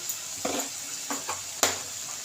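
Cumin powder masala being stir-fried in a pan for a parshe fish curry, with a steady sizzle and a few spoon scrapes and stirs against the pan, close and moderately loud with no talking.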